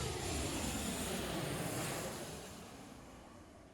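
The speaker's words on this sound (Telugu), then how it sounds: "ఇప్పుడు ఇంకో ఫ్లైట్ ల్యాండింగ్ చూడొచ్చు మీరు" An airplane landing at Mississauga airport in Canada gives a steady, broad roar that holds loud for about two seconds, then slowly fades as it passes.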